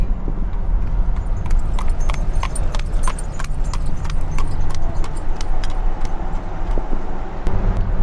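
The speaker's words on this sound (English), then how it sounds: "this is another site that you don't usually see outside of Amish country, is a horse and buggy" Horse and buggy in Amish country clip-clopping along a road, steady hoof beats up close over traffic and road noise, with men standing in the back of a sporty buggy.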